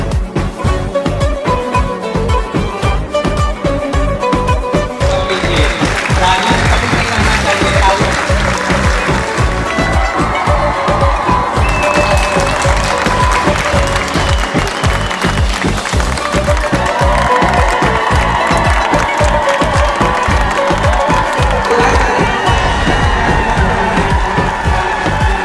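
At an awards ceremony in Motihari, a large audience gives a guest a loud, sustained welcome of dense clapping, with scattered cheers and shouts rising over it for the whole stretch.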